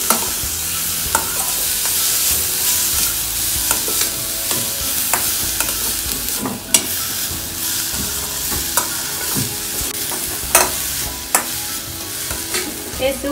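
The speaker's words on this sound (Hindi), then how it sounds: "कैबेज, स्प्रिंग अनियन के व्हाइट्स डालूंगी, ग्रीन हम बाद में डालेंगे, अच्छे से 1-2 मिनट फ्राई करती हूँ।" Cabbage and spring onion whites fry in a pan for a hot and sour vegetable soup, a steady sizzle with repeated scraping stir strokes and clinks throughout, close and loud, no talking.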